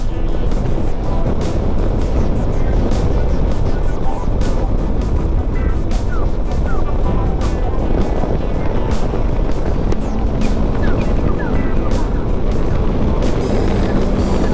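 PW Alrendo TS Bravo electric scooter accelerating along a road, steady broadband road and wind roar throughout with a faint motor whine, no talk heard.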